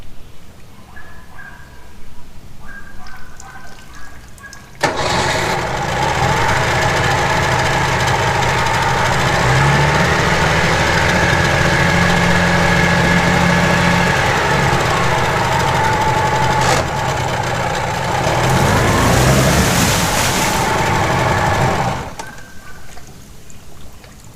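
A small engine catches and runs for most of the stretch, idling at a steady, loud drone with a brief surge near the end before cutting out to quieter background.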